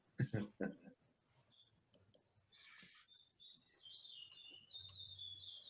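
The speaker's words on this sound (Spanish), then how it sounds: "Está el pajarito ahí gritando, pero nadie pregunta nada" A small bird chirps and tweets in the background during a talk on sustainable building materials, its thin calls repeating faintly over room noise after a brief burst of speech at the start.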